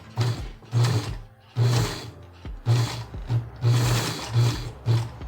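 Sewing machine stitching a homemade surgical mask, loud and close, running in short repeated bursts with brief pauses between as the fabric edges are backstitched.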